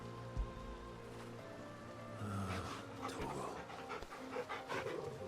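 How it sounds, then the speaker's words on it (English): A dog in Final Fantasy XVI panting as it is petted, quick rhythmic breaths building up over a soft ambient bed and continuing steadily to the end. "Now time to pet the dog."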